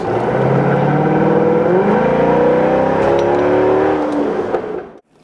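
A Chevrolet Corvette V8 pulls away from a second-gear start, its engine note loud and climbing in pitch as it accelerates, then cutting off abruptly near the end.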